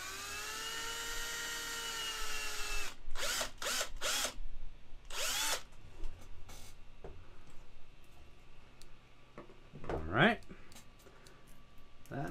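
A high-pitched drill whines steadily while boring a tiny hole in a resin model kit, then breaks into several short bursts with gaps, followed by quieter rustling and a brief scraping buzz near the end.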